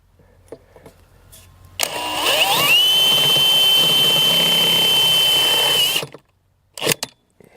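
Power drill driving a self-tapping screw into a pipe floor flange for a DIY trellis, a loud steady whine lasting about four seconds that rises slightly in pitch before stopping abruptly, followed by a couple of short knocks.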